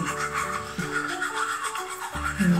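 A toothbrush scrubs at the teeth of a reborn doll in rapid rhythmic strokes, close and moderately loud, with tonal background sound underneath.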